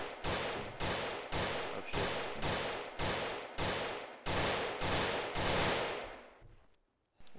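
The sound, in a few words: gunfire in a military video game (Arma TVT)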